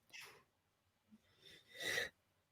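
A person's sneeze, caught by a podcast microphone, comes as a sharp breathy intake, then a burst that is quick and fairly close against near silence.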